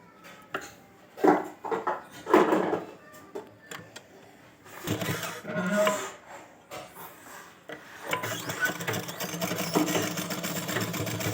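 Sewing machine stitching a fancy baby gown for a two-year-old girl, with bursts of machine running broken by handling and rubbing of fabric, then a steadier stretch of stitching toward the end, moderately close.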